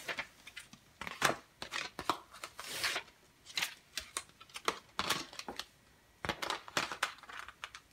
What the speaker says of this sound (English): I'm gonna pull the backing off the Avery label.